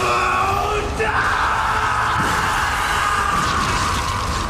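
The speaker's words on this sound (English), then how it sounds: "And peep his scream." Jinwoo, the Solo Leveling anime character, lets out a loud, sustained scream that swells and holds for several seconds over dense, roaring background sound from the scene.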